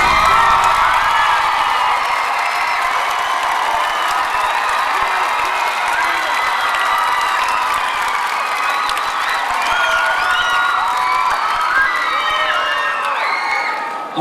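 Loud audience applause and cheering at a school house music concert, a dense crowd roar with whoops and shouts sustained throughout, fading slightly at the very end.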